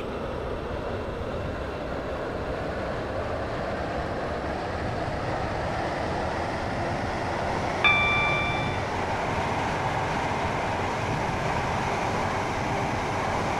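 A train on a Waterline service to Connolly in the Roblox game SCR runs with a constant low rumble, and a single short chime rings out partway through.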